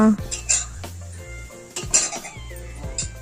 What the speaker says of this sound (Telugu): 1 స్పూన్ పసుపు వేసుకొని మొత్తం కలుపుకోవాలి